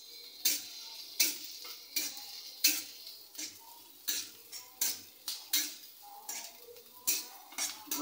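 Onions and chillies frying in a pan, stirred with a utensil that knocks against the metal in regular sharp scrapes and clinks, about two per second, over a faint sizzle.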